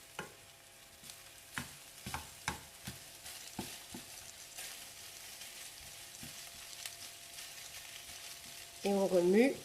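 Pineapple fried rice is stirred and tossed in a hot pan, with a quiet ongoing sizzle broken by a series of sharp scraping knocks of the utensil, then a brief louder burst at the end.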